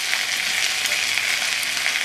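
Food fries in a shallow pan with oil, a steady close hiss and crackle of sizzling that carries evenly throughout, with no voices.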